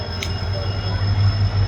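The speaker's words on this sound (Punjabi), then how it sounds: "ਅੱਛਾ ਮਾਲ ਗੱਡੀ ਆ ਮਾਲ ਗੱਡੀ" Heavy, rumbling roar of a freight train rolling past close by, with a steady low drone and a short metallic squeal.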